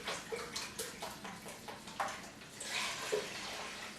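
Vegetable broth pours into a measuring cup in a home kitchen: a soft, close trickle and splash that swells as the cup fills, with faint clinks.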